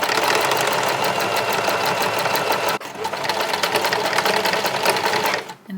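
A sewing machine stitches down a folded fabric strap, a close, loud, fast mechanical rattle that runs steadily, stops briefly, resumes and then winds down.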